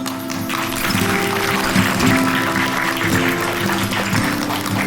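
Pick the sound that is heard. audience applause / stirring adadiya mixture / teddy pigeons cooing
audience applause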